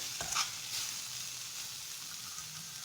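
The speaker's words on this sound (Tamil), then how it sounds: "அதையும் நல்லா கிளறி விட்டுக்கோங்க" Goat spleen fries in a pan with a little oil while being stirred, producing a faint, even sizzle with a brief scrape at the start.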